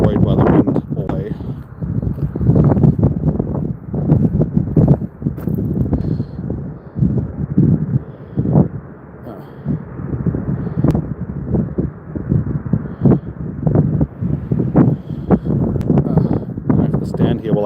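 Wind buffets a microphone on an open outdoor trail, a loud continuous rumble with gusty surges, mixed with steady footsteps and rustling as someone walks.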